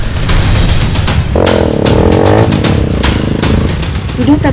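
A motorcycle labours along a muddy red-clay dirt road in rural Borneo, its engine loud and close, revving and straining in uneven surges as it fights through the sludge, with no one speaking.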